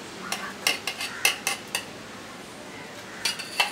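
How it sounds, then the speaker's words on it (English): Air-fried crispy potatoes tossed in honey chilli sauce in a bowl, a series of sharp clinks and scrapes of utensil against dish in irregular bursts, close and fairly quiet. "So now let's take the sauce and toss it."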